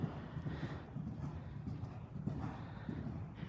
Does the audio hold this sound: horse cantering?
yes